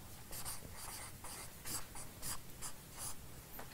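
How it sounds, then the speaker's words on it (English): Pen scratching steadily across paper in handwriting, soft and close, with short rhythmic strokes and pauses throughout a quiet room. "but I'm just going to write directly"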